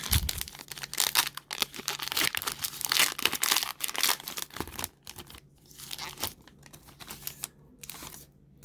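Close crinkling and tearing of a Topps 2020 Minor League Heritage baseball card pack wrapper, a busy stretch of rips and crumples that thins into scattered crackles.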